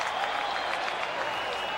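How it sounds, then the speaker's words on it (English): Raiders home crowd in a football stadium after a safety in a 1997 preseason game against the Saints, a broad, sustained roar of cheering and clapping at moderate distance, with no break. "The fans are cheering for something to happen"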